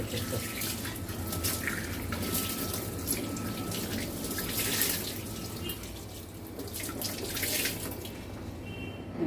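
Tap water runs steadily over a new cast iron appe pan being rinsed, with a continuous splashing rush and occasional clinks of metal, close and fairly loud.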